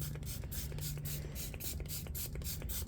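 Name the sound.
spray bottle spraying baking soda and vinegar cleaner on shoes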